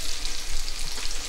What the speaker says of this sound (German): Am einfachsten ist immer salzen, pfeffern, mehlen und anbraten.